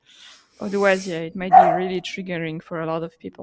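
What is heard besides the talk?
dog barking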